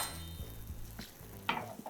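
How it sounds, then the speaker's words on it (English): Onions caramelizing in a pan for an omelette filling give off a soft, quiet sizzle, with a few light stirring clicks and one brief sharper scrape partway through. "The thing about caramelized onions is that you need to leave them alone."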